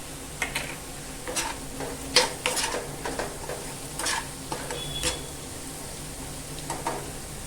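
Beaten eggs for bhurji stirred in a hot pan, with repeated scraping and tapping of a spatula over a light sizzle, close and without talk.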